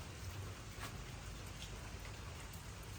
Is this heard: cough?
no